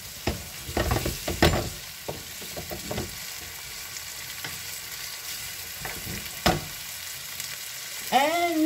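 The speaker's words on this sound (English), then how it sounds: "And mix together our bacon, ham, and bacon and peas." Bacon, ham and peas being stirred in a frying pan for Cantonese-style rice, with steady sizzling and several scraping stir strokes close up, no talking.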